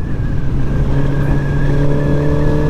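Suzuki GSX-R sports motorcycle engine droning steadily while riding, a loud, close, continuous hum with wind rush and no speech.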